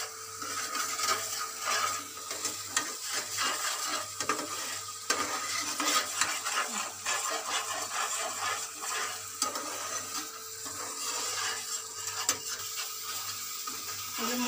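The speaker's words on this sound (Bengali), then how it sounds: "এই যে মশলাটা ভাজা হয়ে আসছে দেখুন, এই যে তেল ছেড়ে গেছে" Mustard paste ground with two green chillies fries steadily in oil in a pan, a continuous soft sizzle with occasional stirring scrapes and no voices.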